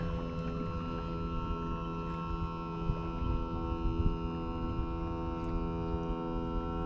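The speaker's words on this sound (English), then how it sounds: "Let's jump on the trolling motor." Boat trolling motor running on a fishing trip, giving a low, steady electric hum with layered tonal whine, fairly quiet and continuous, with faint water and background noise and no talking.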